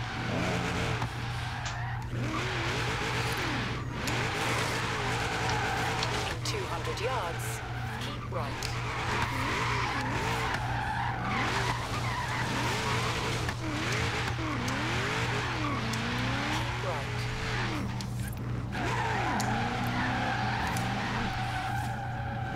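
A car drifts in the video game Forza Horizon 3, with long wavering tire squeals over a steady engine drone and skids rising and falling continuously at close range.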